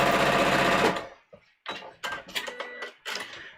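A domestic sewing machine stitches a muslin bodice in one steady, loud burst lasting about a second, followed by a few short clicks and handling noises.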